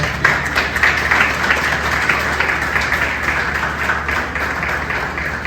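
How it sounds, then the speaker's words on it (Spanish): A church congregation at a Sunday service claps together in sustained, even applause, loud and reverberant throughout, with a faint steady hum underneath. "Den este aplauso al Señor."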